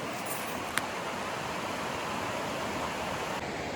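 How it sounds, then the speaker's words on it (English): A river rushes loudly and steadily, a continuous broad roar of flowing water with no pauses. "The river's probably pretty loud"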